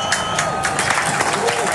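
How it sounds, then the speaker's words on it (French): A large stadium crowd applauds and whistles at the Paris Olympics opening ceremony as Emmanuel Macron declares the Games open, a dense, steady wash of clapping and cheers with scattered whistles running the whole time. "Emmanuel Macron donc qui ouvre ces Jeux sous les applaudissements, mais également sous les sifflets"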